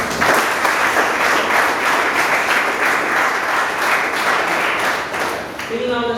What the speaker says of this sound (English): Tell it out clap once again.